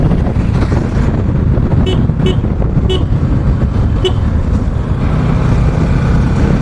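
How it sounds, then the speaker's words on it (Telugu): A car horn honking as the vehicle climbs the hairpin turns of a mountain ghat road near Nagarjuna Sagar, four short toots spaced a second apart over loud, continuous engine and road rumble. "ప్రతి టర్నింగ్లో హార్న్ కొట్టాలి"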